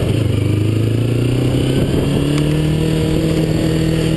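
Motorcycle accelerating with a loud, steady engine drone that climbs in pitch, heard close up with wind noise and no talking.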